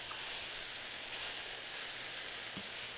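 Chicken sautéing in olive oil for chicken cacciatore gives off a steady, close, bright sizzle that hisses evenly throughout with no interruptions.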